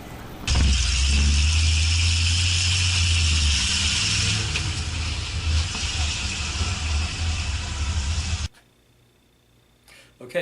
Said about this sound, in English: Just a car with a bike and a horse trailer, right?